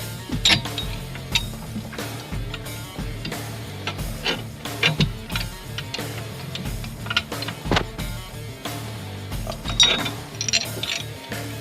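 Ratchet wrench turning a 17mm socket during an LS1 engine swap into a 1966 Chevy C10 pickup, a close series of quick ratcheting clicks and metallic clatter in uneven bursts, with no talking.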